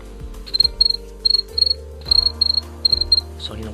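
A person imitates cricket chirping, producing about a dozen short high trills in quick groups, fairly close and clear, with a low steady hum underneath.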